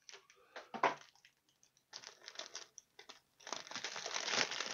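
Close crinkling of a cellophane bag holding model kit parts for a Dora Wings Fairey Delta 2, in quiet bursts of rustling and crackling handled alone with no talk.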